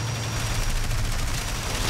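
Aircraft cannon fire in War Thunder during German aircraft gameplay, a continuous rapid burst of rattling shots over a steady engine drone, loud and close with no talk.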